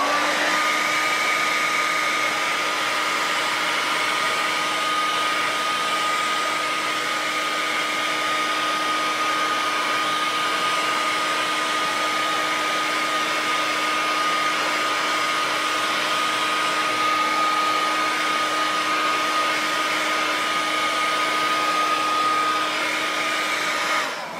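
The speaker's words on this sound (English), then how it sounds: "hit it with a blow dryer a bit" A blow dryer runs steadily and close for the whole stretch, drying a costume piece for a Black Lantern Wonder Woman outfit, with an unbroken whooshing hum and a faint higher whine, no speech.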